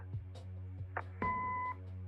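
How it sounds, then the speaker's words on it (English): A single clear electronic answering-machine beep in the Kathy Rain adventure game, steady and tonal for about half a second after a short recorded greeting, over a low constant background hum. "Leave a message after the beep."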